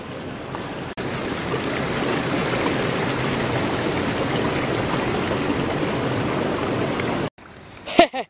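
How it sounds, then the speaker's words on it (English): Water bubbles and churns steadily in a flooded cranberry bog of cedar water in the New Jersey Pine Barrens, a close, continuous gurgling wash that cuts off abruptly near the end, followed by a brief handling noise. "Look at that water bubbling up there like that. This is a flooded cranberry bog right here."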